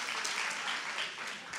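Steady applause from an audience at a talk on eighteenth-century literature in the new middle-school curriculum, a dense continuous clatter of clapping hands at moderate level with no clear pauses.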